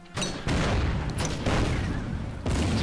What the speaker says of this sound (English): Have some mortars.